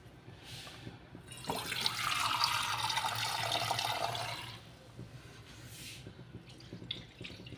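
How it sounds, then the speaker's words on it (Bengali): Water pours into a simmering fish curry pan with potato and eggplant, a rushing splash lasting a few seconds between quieter bubbling, close by and without speech. "এবার আমি জল দিয়ে দিলাম"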